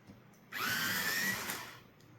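A black colored pencil is ground in an electric sharpener, a close, steady whirring burst lasting about a second, starting abruptly and fading off.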